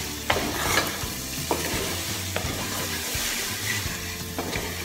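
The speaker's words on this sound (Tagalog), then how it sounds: "Stir natin siya ng 1 minute." A spoon stirs creamy beef stroganoff sauce thickened with flour as it sizzles in the pan, with a soft bubbling fry underneath and several clear scraping knocks against the pan over a few seconds, without any speech.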